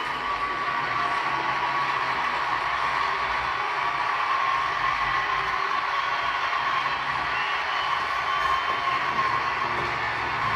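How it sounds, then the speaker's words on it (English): A large live crowd cheers and roars steadily throughout, a dense continuous wash of voices with no clear pauses or breaks. "The crowd is going nuts."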